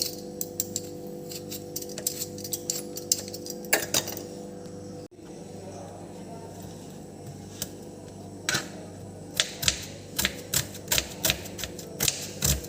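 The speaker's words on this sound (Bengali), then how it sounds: "পেঁয়াজ আর লঙ্কা আলু সব কেটে নিচ্ছি একদম কুচি কুচি করে কেটে নিতে হবে" Onion, chilli and potato are finely chopped with a knife on a board, in bursts of rapid, crisp, evenly spaced taps close by, with a brief pause midway.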